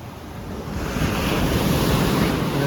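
Choppy sea surf at Chaweng Beach on Koh Samui, a loud continuous roar of breaking waves mixed with heavy wind buffeting the microphone, no voices.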